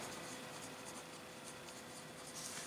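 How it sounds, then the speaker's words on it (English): Marker or chalk writing on a board during a chemistry lecture, a steady continuous scratching and rubbing at moderate level with no talk over it. "Alright, I'll write Markovnikov,"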